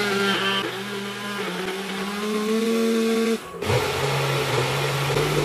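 A kitchen blender whirs loudly and steadily while chopping galangal with water, its motor pitch shifting as the blades work through the fibrous mix, with a brief dip and restart partway through.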